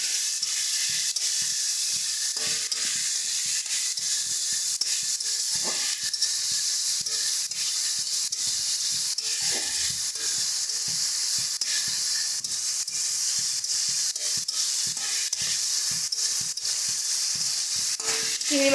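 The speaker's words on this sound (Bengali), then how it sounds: "চিংড়ি মাছটাকে হালকা করে ভেজে তারপর এটাকে আমরা তুলে নিচ্ছি।" Prawns coated in turmeric and salt fry in a pan with a constant close sizzle, punctuated by repeated scraping and stirring taps; no talking.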